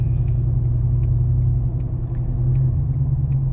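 A Ford F150 truck engine cruises on an open road, giving a steady, loud low rumble with faint periodic ticks over it.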